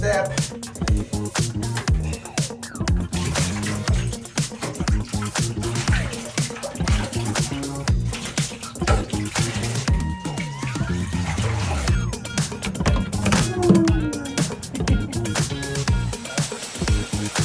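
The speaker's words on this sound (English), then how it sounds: "Here's the water." Water from a hose spraying over an aluminum boat during rinsing, a continuous loud splashing and pattering rush that runs steadily throughout, close by.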